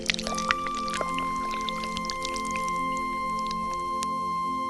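A farmer pours water from a clay pot in an animated Hindi story, giving soft trickling and dripping sounds with small splashes over a thin steady tonal hum.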